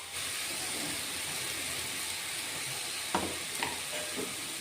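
Ridge gourd frying in a pan with salt and turmeric while being stirred, a steady close sizzle and hiss with a few brief scraping knocks of the spoon near the end.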